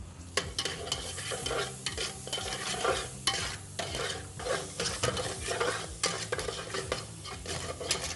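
Garam masala powder is stirred into a frying masala, giving a soft sizzle under quick, busy scraping and clinking of a spoon against the pot, close and fairly quiet, with no speech.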